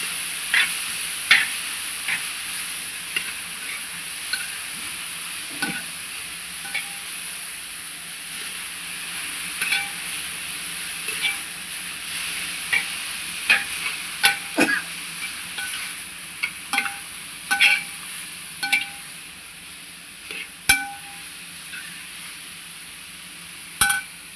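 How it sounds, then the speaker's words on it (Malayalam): Beetroot thoran frying in a pan while a spoon stirs it, steady sizzle with repeated scraping clicks of the utensil against the pan, close and fairly loud, no voices. "നല്ലതുപോലെ ഇളക്കി മിക്സ് ചെയ്ത് യോജിച്ച് കൊടുക്കണം"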